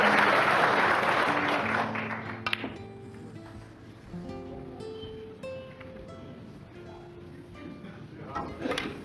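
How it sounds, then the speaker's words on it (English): Snooker crowd at the 2013 World Championship bursts into loud, sustained applause that gradually thins, with scattered voices and cheers rising over the clapping and a fresh swell near the end. "Listen to the crowd."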